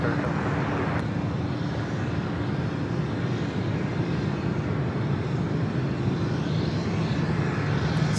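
A Delta Airbus A330neo airliner, about a year old, at LAX, producing a steady, continuous engine roar with broad rumbling noise that holds at an even level throughout, with no voices.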